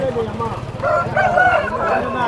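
A chicken at the weekly Thursday poultry market in Galiveedu gives a drawn-out, crowing cry close by, with people talking over the noise of the market.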